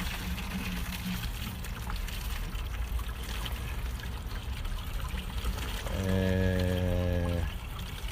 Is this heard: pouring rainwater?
yes